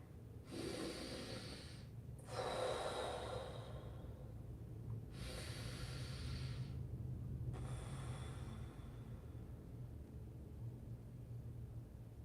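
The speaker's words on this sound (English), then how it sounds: "Take a few more breaths." Slow, deep breaths during a seated chair yoga session, four long audible inhales and exhales spaced a few seconds apart, close and soft over a low steady hum, no speech.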